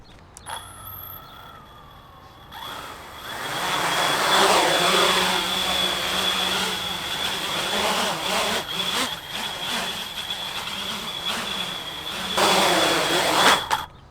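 A large X Class cine camera drone carrying a GoPro, its motors whining and rising in a steady, loud buzzing drone that swells and dips as it flies, with a high continuous tone above.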